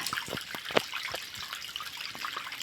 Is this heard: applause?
no